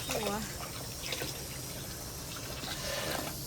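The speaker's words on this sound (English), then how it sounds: "When you turn on the water, you have to make sure that the water is warm for customer" Warm water runs from a tap into a pedicure tub at a spa, a faint steady trickling and splashing with light background noise.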